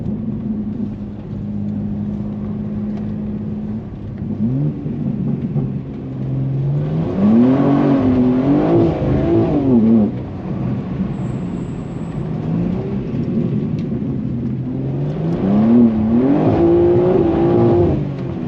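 BMW G87 M2 driving on dirt back roads, engine droning steadily and then revving up through rising gear pulls twice, with tire and road rumble underneath and a close, loud interior sound.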